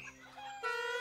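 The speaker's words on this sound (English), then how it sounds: "Chickens? Farm? What's going on down there?" A couple of short chicken clucks, close and clear, with a brief tonal cackle at the end.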